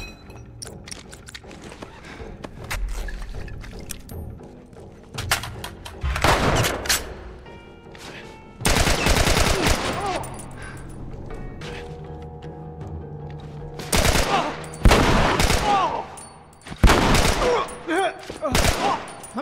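Bursts of gunfire in The Last of Us video game, loud rapid volleys arriving in several clusters with quieter gaps between them, and faint talk underneath.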